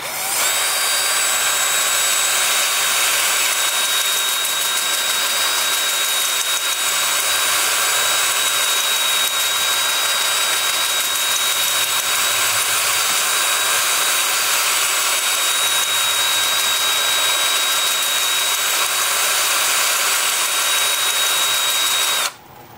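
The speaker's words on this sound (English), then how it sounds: "I'm sure my sanding disc is going to get caught by this bark inclusion" A loud, continuous high whine of a spinning wood lathe with a sanding disc pressed against a wooden bowl with bark inclusion, steady throughout and cutting off abruptly at the end.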